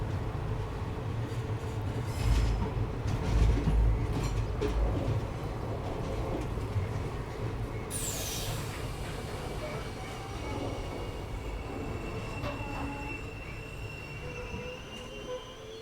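A train rolls through an Indian railway station on the Chennai to Rameswaram route, with a sustained rumble and a high metallic wheel squeal that rises briefly, then fades into steady rolling noise with faint distant sounds.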